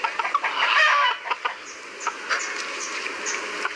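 Chickens cluck and squawk in short bursts, close by, with a busy background of more birds.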